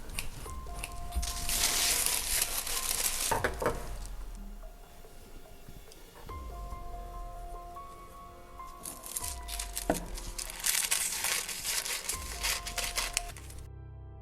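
Paper scissors snip and rustle through a paper sewing pattern for an 80s-style jumpsuit, with bursts of crisp cutting and crinkling alternating with quieter handling, close and fairly soft.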